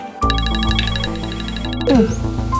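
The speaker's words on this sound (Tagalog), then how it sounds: "Pa, your phone's ringing." A mobile phone rings with a repeating electronic melody, loud and close, with a brief voice-like sweep near the end.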